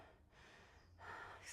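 Heavy breathing after an exercise set during a gym workout: two close, breathy exhales or gasps in quick succession, loud and unaccompanied by speech.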